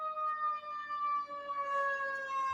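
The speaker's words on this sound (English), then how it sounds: "Volunteer siren." A volunteer fire siren wails steadily with a sustained, slowly shifting tone, loud and unbroken throughout with no talking.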